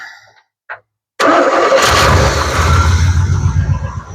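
A 1984 Chevrolet C30 truck engine, unstarted for about six years, cranks briefly after a short click, then catches and roars into a loud, rough idle up close.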